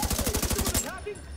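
Rapid automatic gunfire from The Division 2 video game, a steady burst of regularly spaced shots for under a second that then cuts off, leaving quieter game ambience.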